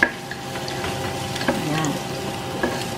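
Garlic frying in oil in a pan for a misua soup with pompano and chicken balls, a steady close sizzle with a few soft stirring clinks and no talk.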